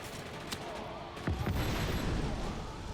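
A sharp pop, then a loud booming blast that rolls into a sustained low rumble and crackle, like game explosions going off in Just Cause 3.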